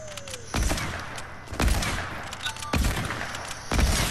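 Hunting rifle shots in the Fortnite video game ring out as four sharp, booming reports spaced about a second apart, each with a short echoing tail over faint background game sound.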